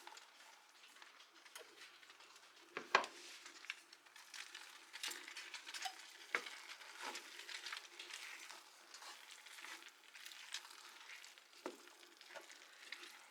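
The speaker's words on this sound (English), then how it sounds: "Give it a mix in to incorporate it well." Rice, broccoli and cheese cooking together in a pan, a faint quiet sizzle with light scrapes and taps of stirring scattered through, no talking.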